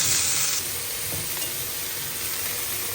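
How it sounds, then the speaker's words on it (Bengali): Vegetable stalks and a small eggplant fry in hot oil, a steady broadband sizzle that is loud and close, with a brighter hissing burst at the start as they drop in and faint stirring clicks underneath. "ডাটা আর একটা ছোট্ট একটা বেগুন আছে, এটাও ভেজে নেব"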